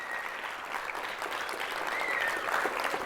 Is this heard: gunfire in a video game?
no